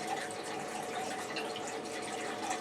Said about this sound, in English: now we're getting some good water flow here